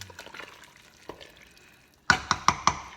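A spoon scrapes and knocks around a pot of papaitan soup, soft liquid stirring at first, then four sharp, loud clinks in a quick row near the end.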